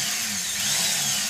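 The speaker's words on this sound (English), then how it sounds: "It's a Dremel tool. I think it's actually called a pneumatic carver or something like that." A variable-speed pneumatic carver of the Dremel type, fitted with a small sanding drum and driven by a foot pedal, runs at a steady high-pitched whir with a faint low hum beneath, close and continuous with no talk.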